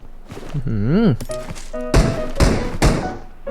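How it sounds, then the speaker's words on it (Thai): Firecrackers crack like gunshots during a Chinese New Year lion and dragon dance event in PUBG Mobile. Three sharp, loud bangs follow a rising, whistling tone, with some thumps in between. "เสียงประทัดเหมือนเสียงปืนเลย"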